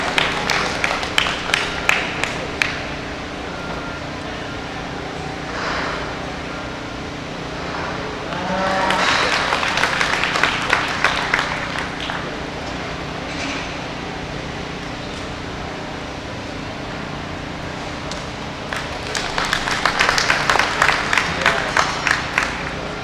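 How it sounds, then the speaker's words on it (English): Audience at a heifer showmanship contest breaks into bursts of clapping, first briefly, then a longer swell in the middle and another near the end, with an amplified voice and hall noise between the rounds. "Please give them one more round of applause and have a safe trip home."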